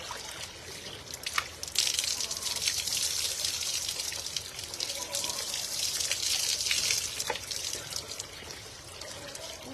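Water pours steadily to rinse a hair treatment out of hair, a continuous close gush and trickle with faint splashes throughout.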